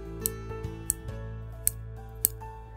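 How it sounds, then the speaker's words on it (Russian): Trap-jaw ants (Odontomachus monticola) snapping their jaws shut on empty air, giving a few sharp, faint clicks spaced irregularly over a steady low background hum. "когда капканчики промахиваются по жертве, человеческому уху отчетно слышны характерные щелчки от холостых захлопываний"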